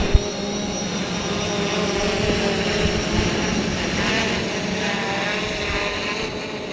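A fishing bait drone flies over the sea, giving off a continuous high buzzing whine of small propellers that holds steady for several seconds over a broad wash of wind and surf noise.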